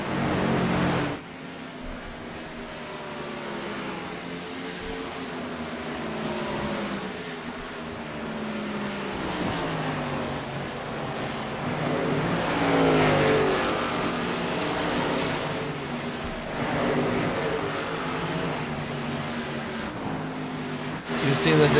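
Race cars racing at Iowa Speedway, engines droning and whining continuously as they circle the track, rising and falling in pitch under a commentator talking.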